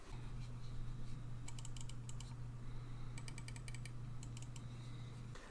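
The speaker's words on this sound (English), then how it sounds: "Here's a little sound test for those of you who are interested of the side buttons on the G203" Side buttons on a Logitech G203 gaming mouse are clicked in short quick bursts, crisp small ticks heard close up over a low constant hum and background hiss.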